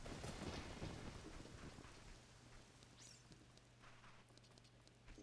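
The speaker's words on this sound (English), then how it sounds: "Why is it raining?" Rain in the video game The Legend of Zelda: Ocarina of Time, a soft, continuous patter of rainfall with a low hum beneath, starting a little louder and then settling into a quiet, even hiss.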